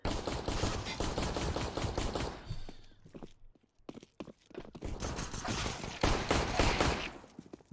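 Close, loud bursts of automatic rifle fire in the game CS:GO, with rapid shots, a short lull filled by footsteps and mechanical clicks, then fire resumes in sustained volleys.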